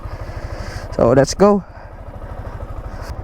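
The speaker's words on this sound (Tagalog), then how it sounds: "So ngayon ang gagamitin natin na motor is yung Sniper 155 niya." Sniper 155 motorcycle idling nearby with a steady, fast low putter throughout, briefly covered by a short spoken phrase.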